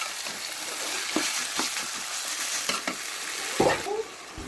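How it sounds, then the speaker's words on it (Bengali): Broiler chicken pieces sauté over high heat in a pan, with a steady hissing sizzle and soft scraping stirs, ending in a louder clatter. "চুলোর হিট বাড়িয়ে দিয়ে ভালোভাবে এগুলো কষিয়ে নিতে হবে।"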